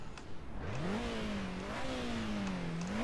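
A newly added car in a Roblox-style driving game starts up quietly, its smooth engine tone rising and wavering briefly as it revs, heard alone.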